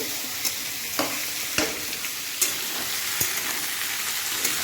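Rice sizzles and crackles steadily in hot ghee in a pan, with sharp stirring clicks and scrapes popping up every second or so over the continuous frying hiss, close and moderately loud.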